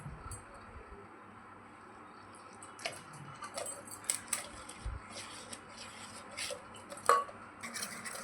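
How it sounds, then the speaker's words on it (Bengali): Gram flour batter being whisked by hand in a bowl gives soft, irregular clicks and taps at close range, quiet and scattered over a low background hush. "4-5 মিনিট হাতে সময় নিয়ে ভালো করে এইভাবে ফেটিয়ে নিতে হবে বেসনটাকে"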